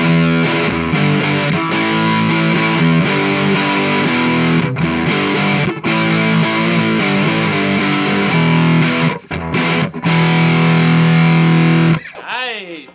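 Distorted electric guitar played through a Weber Blue Pup Alnico speaker on a UK 80s amp setting, thick sustained chords and riffs with a growly, compressed tone, loud and continuous, ending in a brief swooping squeal.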